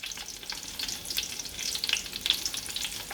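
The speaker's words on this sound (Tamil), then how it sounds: "அதில் நம்ம வந்து க்ரீன் சில்லிஸ் போட்டு ஃப்ரை பண்ண போகிறோம்" Green chillies fry in hot oil for a Hyderabadi mutton dum biryani, giving a close, busy crackle of spitting pops that holds steady throughout with no voices.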